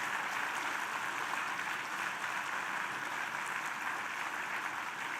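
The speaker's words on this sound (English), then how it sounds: "May I ask our graduates to once again applaud loudly for everything that they have done for you." Graduates at a management institute convocation applaud, a steady, even wash of many hands clapping at moderate distance, sustained without pause and with no speech over it.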